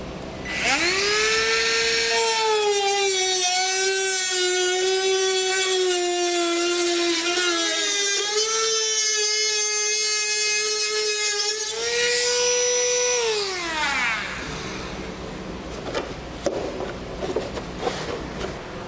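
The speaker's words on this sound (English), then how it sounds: "Now I'm going to use a Dremel tool to get it cut out" A Dremel rotary tool cuts through thin plastic on a 2011 Toyota Sienna during trailer hitch installation, a loud high whine whose pitch sags and recovers under load across a long continuous cut, then spins down into faint clatter.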